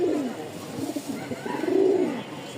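A male pigeon coos close by, a low, throaty warble that swells and dips in repeated phrases with no voices.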